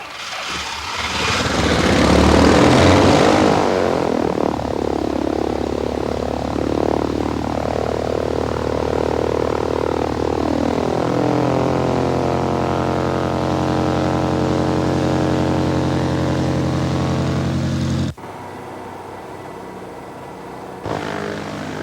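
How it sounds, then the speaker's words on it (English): A light airplane engine cranks and catches, then settles into a loud, steady propeller drone that holds for many seconds before dropping abruptly to a lower, quieter idle near the end. "let's fire up the engine and see how a typically complacent pilot might handle an aborted takeoff"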